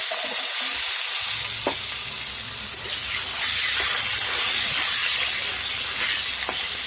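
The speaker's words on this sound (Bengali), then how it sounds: "এবার আলুগুলো দিয়ে দেবো।" Potatoes seasoned with turmeric and salt fry in hot oil, giving a steady loud sizzle and hiss throughout with a few faint clinks, no voices.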